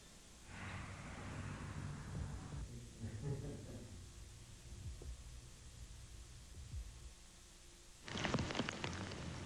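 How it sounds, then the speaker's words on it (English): Steady rain falls over a residential subdivision in Waverly, Pike County, Ohio, a continuous broadband hiss that holds throughout and swells slightly louder near the end. "A steady rain falls in Waverly's Green Acres subdivision."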